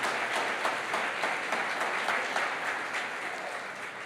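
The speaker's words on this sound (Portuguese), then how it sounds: "Em nome de Jesus, aplaude o nome dele, graças a Deus." A church congregation applauds during a Sunday service, a full, steady roar of clapping that holds evenly and tapers slightly toward the end.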